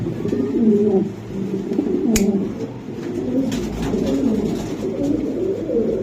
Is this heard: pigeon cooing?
yes